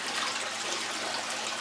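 Water pours steadily over a gravel-laden grease table used to recover diamonds, a continuous dense rushing and splashing that stays close and loud throughout, with no voices.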